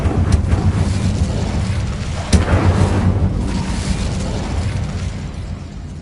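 A fire spell bursting in Hogwarts Legacy, a loud booming explosion with a sharp pop near 2.3 seconds amid a steady roaring rush of flame and wind, fading slightly toward the end.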